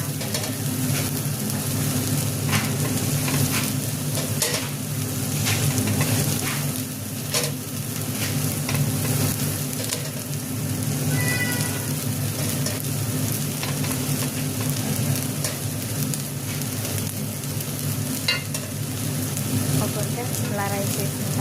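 Basmati rice frying in a pan for prawn fried rice with egg, a loud, steady sizzle with occasional stirring scrapes that runs throughout, while someone talks over it.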